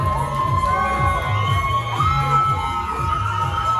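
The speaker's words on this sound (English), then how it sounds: "Yeah, screaming for Jason Way" A wrestling arena crowd cheers and screams continuously for a wrestler caught in a figure-eight hold, a loud, dense roar of shouting voices with children's shrieks rising above it.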